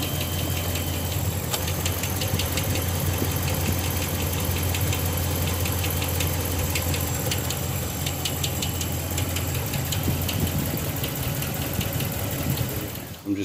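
A 2013 Dodge Ram's 5.7 Hemi V8, previously troubled by a ticking noise, runs at a steady idle, a close, continuous low rumble with a faint rapid ticking layered on top throughout.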